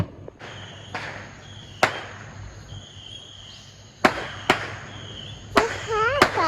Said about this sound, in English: Was that cool? Seeing the fireworks?